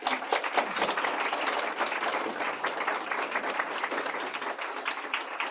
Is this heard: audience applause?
yes